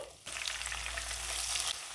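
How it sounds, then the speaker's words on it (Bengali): Chopped onion frying in oil for a homemade chicken jhal roast, a steady close sizzle that jumps in loudly after a brief quieter start and holds dense and even, with no talking. "পেঁয়াজটা হালকা ভাজা হয়ে গেছে"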